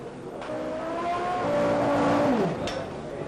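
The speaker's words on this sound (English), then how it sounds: "The engine is now warmed up prior to Nigel's arrival." A Renault engine in a 1991 Formula One car revs while warming up in the pits at the British Grand Prix, a loud sustained whine that rises and then drops away.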